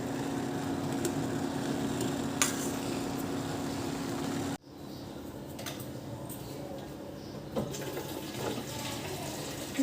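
Water runs steadily from a kitchen tap as a container fills, a continuous hiss that cuts off abruptly midway and resumes more softly with faint clinks, no talk heard.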